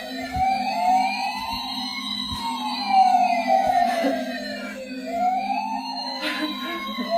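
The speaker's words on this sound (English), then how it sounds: "A siren from a model fire truck can be heard from another part of the house" Toy siren from a model fire truck wailing indoors, a rising and falling electronic siren with overlapping tones that cycles steadily over a low mechanical hum.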